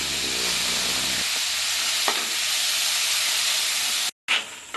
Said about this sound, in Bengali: আমি মশলাটা যাতে কাঁচা গন্ধ না ছাড়ে ওই জন্য মশলাটাকে আমি আগে কষে নেবো